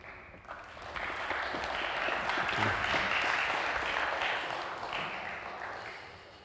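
A conference audience applauds as a speaker is welcomed onto the stage, steady clapping that swells and then fades over several seconds.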